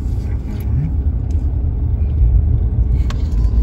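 From inside a moving car, a steady low rumble of engine and road noise carries on throughout, with a few faint clicks and light background sounds and no clear talking.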